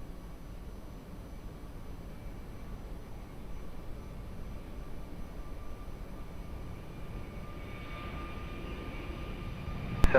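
An airliner approaching to land at Lisbon Airport gives a faint, steady distant engine rumble with a thin tonal whine, growing slightly toward the end, with no voices.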